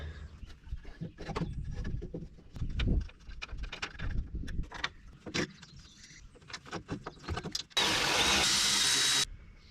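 An excavator's diesel engine rumbles with irregular knocks and clanks throughout, then a loud, steady hiss of broadband noise cuts in near the end.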